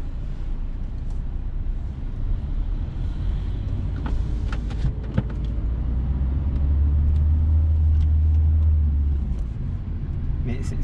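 Car turning right and driving along a street, a steady low engine and road rumble with a deeper drone swelling midway, heard from inside the cabin with people talking over it.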